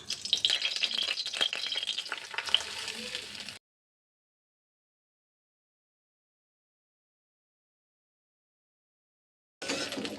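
Frying and stirring of modak filling ingredients roasting in ghee in a pan, a busy sizzle with scraping for a few seconds, then silence before the sizzling resumes briefly at the end.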